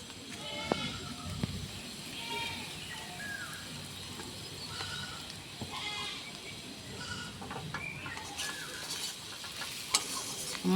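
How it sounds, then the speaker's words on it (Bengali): Red chili and turmeric powder sizzle softly in hot oil in a pan while being stirred for a Bengali katla fish curry with lentil dumplings and potatoes, a faint steady fry with light scraping and distant animal bleats. "মশলাগুলোকে দিয়ে কিছুক্ষণ ভেজে নেব"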